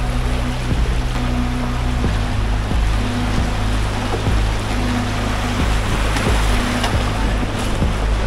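Canoe paddling through whitewater rapids on a wilderness river trip from Norway to Sweden, with a steady loud rush of churning water throughout and a few faint splashes.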